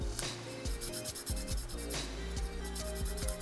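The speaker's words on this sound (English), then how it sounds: "I'll just scrub it against the sandpaper and rotate it as I do." A pencil point scrubbed and rotated against a sandpaper pad makes close, repeated scratchy rasping strokes in an uneven rhythm, running steadily with no voices.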